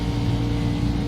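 A racing car engine in a video game screams steadily near 17,000 RPM at Daytona, a loud continuous high-pitched whine that holds without a break.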